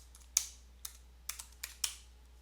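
Typing on a computer keyboard, a handful of separate crisp key clicks spaced irregularly, close and fairly quiet with no talk.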